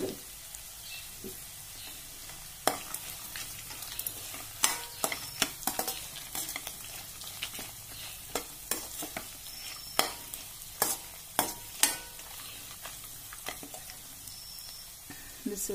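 Fried ingredients are stirred into vermicelli upma in a pan, giving a steady low sizzle with repeated sharp scrapes and clacks of the spoon against the pan over about sixteen seconds, with no talking.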